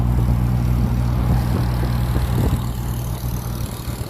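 A mini bike's small engine drones steadily on a road, loud and continuous with a low rumble that eases slightly near the end, and no one speaks.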